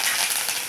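Mustard seeds sputtering in hot oil for mango pickle, a dense, bright crackle and hiss at close range, continuous and loud through the short moment.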